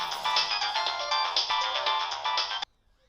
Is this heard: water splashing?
no